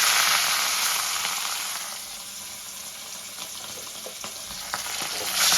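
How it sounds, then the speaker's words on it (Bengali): Pieces of rohu fish fry in a little hot salted oil in a pan, giving a loud, steady sizzle throughout with a few brief crackles and no talk. "এবার আমি এক এক করে দিয়ে মাছগুলো ধরে"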